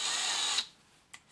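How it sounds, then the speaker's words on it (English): A cordless drill set to slow speed runs steadily and fairly loud for about half a second, then cuts off, followed by a brief faint click, while a water pipe isolator is fitted. "I'm going to ensure that the drill is in the slow speed"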